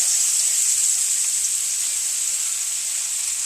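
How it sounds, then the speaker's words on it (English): Chicken thighs frying in their own fat with no added grease, a loud, steady sizzle with no voices. "They're frying in their own grease."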